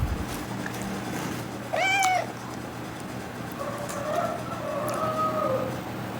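A cat meows a few times, a rising drawn-out call followed by softer, longer mewing cries against steady outdoor background noise.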